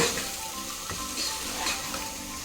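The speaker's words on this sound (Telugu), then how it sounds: "చూసారు కదా, ఈ విధంగా చక్కగా ఫ్రై అవుతూ ఉంటాయండి." Mutton pieces coated in salt, chili powder and masala frying in a pan, a loud continuous sizzle with stirring scrapes throughout, close and busy, no talking.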